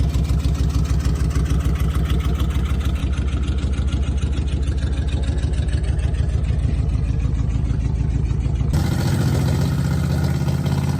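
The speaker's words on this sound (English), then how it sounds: "I think that engine's revved up a little bit high." Engine of a 1956 Monarch car running loudly with a fast, throbbing rumble, revved a little high, that holds steady, then shifts pitch and tone sharply near the end.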